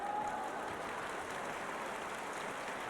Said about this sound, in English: Crowd cheering for Ding Ning's craftsmanship out here